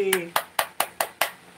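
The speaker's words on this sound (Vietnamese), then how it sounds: "Vỗ tay." Six sharp hand claps in a steady, quick rhythm, close and loud, with a brief voice at the very start.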